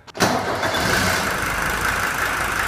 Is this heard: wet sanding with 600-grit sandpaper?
no